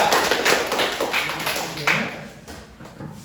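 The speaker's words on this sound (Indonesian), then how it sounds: "kita berikan tepuk tangan untuk kelompok 3" In a classroom, students applaud a discussion group after its presentation: a fairly faint patter of many hands clapping thins out and fades toward the end.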